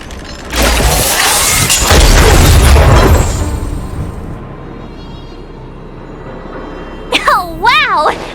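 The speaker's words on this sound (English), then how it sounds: "We wiped them all out in a single explosion!" An automaton stealth bomb explodes in the video game Honkai: Star Rail with a loud, broad blast that rumbles for about two and a half seconds and slowly fades. A burst of warbling electronic tones follows a few seconds later.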